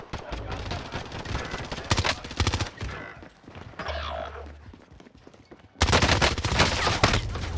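TS9 submachine gun fire in Call of Duty Warzone, several rapid automatic bursts, loud and close, separated by quieter gaps with background game noise and faint talk.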